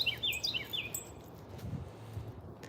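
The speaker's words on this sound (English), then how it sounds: "That's a loud bird. Do you hear that?" A bird calls close by in a morning forest, a quick series of three or four sharp, high chirps at the start, then quiet woodland ambience with faint rustling.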